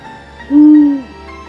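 A single low, steady owl hoot sounds once, clear and fairly close, held for about half a second over a quiet background.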